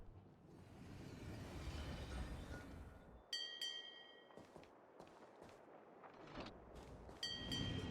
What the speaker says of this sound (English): Oh, there's another tram.